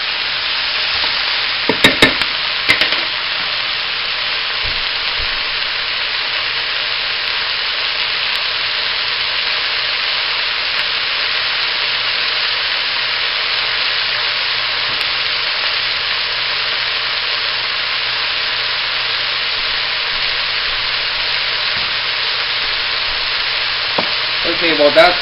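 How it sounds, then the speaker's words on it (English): Meat sears in a hot pan for puchero, giving a loud, continuous close sizzle that holds steady throughout, with a few faint clinks near the start and end. "Okay, well that's searing."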